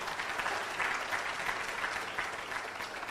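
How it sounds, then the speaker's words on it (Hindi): Steady audience applause at a motivational seminar on success, a dense wash of many hands clapping evenly for about three seconds, moderately loud with no voices over it. "जोरदार ताली मारे"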